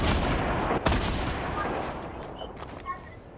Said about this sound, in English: He's sniping me! They're sniping me!